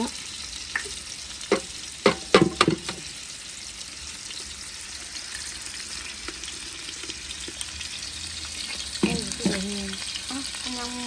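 Eggs and garlic frying in a pan in a home kitchen, a steady broadband sizzle with several sharp clattering stirs and utensil knocks early on and again near the end, no talking.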